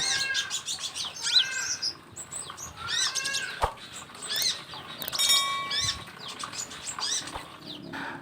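Hummingbirds in a mini aviary give rapid high chirps and twittering calls in repeated bursts, close by and clear over a quiet background with a few sharp clicks.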